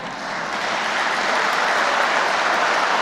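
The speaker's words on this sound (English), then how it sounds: "A little bit delayed on that clapping there" Sustained applause from the audience at a governor's State of the Commonwealth budget address, a dense steady wash of clapping that swells slightly and holds without any voices.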